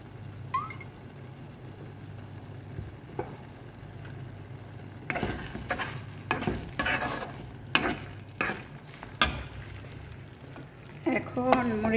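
A little olive oil heats in a pan, first a faint hiss under a low hum, then louder bursts of sizzling and scraping as the contents are stirred, with intermittent clatter from the utensil.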